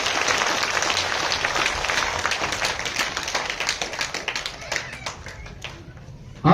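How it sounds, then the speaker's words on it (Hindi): A crowd at an election gathering claps with raised hands, a dense burst of applause that thins into scattered claps, with voices in the background. "सारा ऊंचा हाथ करके ताली बजाई"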